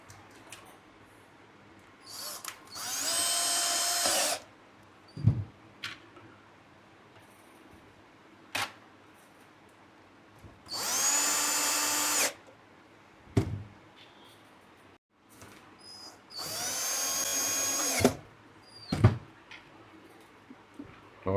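A power screwdriver drives screws into a sound bar under repair, with three sustained whirring bursts of about two seconds each, separated by clicks and clunks of handling, close and fairly loud.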